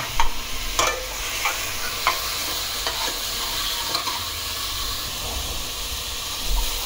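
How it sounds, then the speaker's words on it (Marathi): Spring onion, cabbage and beetroot stir-fried together in a pan, a steady close sizzle and hiss with occasional sharp scrapes and knocks of the stirring spoon. "हे सगळं आता याच्यात घालून मस्तपैकी छान असं परतून घ्यायचंय त्याला"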